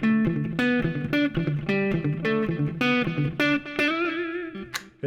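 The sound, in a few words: electric guitar hybrid picking exercise with distortion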